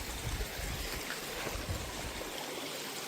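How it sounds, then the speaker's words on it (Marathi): Water from a waterfall runs along a stream channel outdoors at Panchavati, Nashik, a steady close rushing and trickling wash that continues throughout without voices. "हे बघा पाणी जे वॉटरफॉलचं येते ना, इथून चाललंय"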